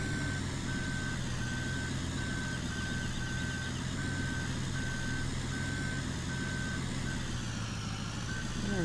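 Reversing beeps from a Ford F-450 truck backing up in Farming Simulator 2017, a steady evenly spaced beeping held over a constant low engine drone throughout, with no talking.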